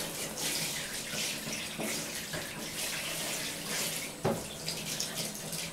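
Running shower water pours steadily for several seconds while a dog is bathed, with splashes and a few louder knocks breaking the constant hiss.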